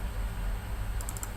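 Keys click softly on a computer keyboard as a command is typed, a few quick taps near the end over a steady low background hum.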